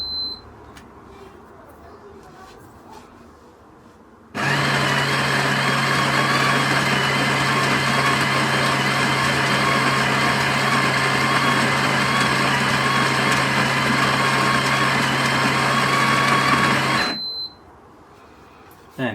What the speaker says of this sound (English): Let's do another grind